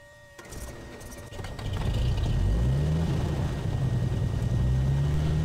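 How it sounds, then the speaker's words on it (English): A piston engine on an Alabeo M20R Ovation aircraft in a flight simulator starts up and settles into a deep, steady, loud rumble that fills the rest of the clip. "Now the engine noise has a rumble sound, which is quite unique"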